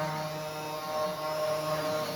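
A CNC router runs steadily, its motor giving off a constant tonal hum and vibration that stays even and fairly loud from start to finish, with no voices.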